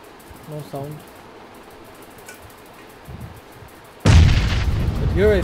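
A grenade explosion in the battle royale game PUBG erupts as a sudden loud boom and then a sustained roar, following a stretch of quieter in-game sounds.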